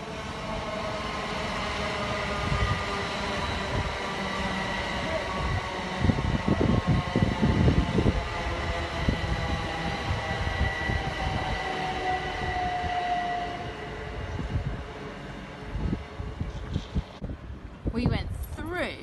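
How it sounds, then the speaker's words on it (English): A train runs along the track with a steady rumbling drone and clattering wheel noise, moderately close, and a brief louder rattle passes partway through; talk is faintly present. "We saw a train on the track."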